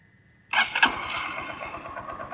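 A motorcycle engine is started in a close recording: a brief starter crank is followed by the engine catching and settling into a steady, moderately loud idle with no talking.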